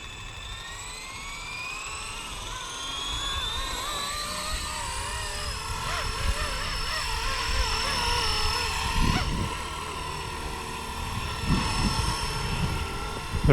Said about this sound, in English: we're going to spool her up for the first time